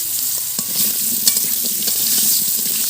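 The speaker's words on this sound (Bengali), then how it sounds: "আলুগুলোকেও ভালো করে ভেজে নেব" Potatoes fry in hot oil in a pan, a close, steady hiss of sizzling with scattered pops and scraping stirs throughout, no voices.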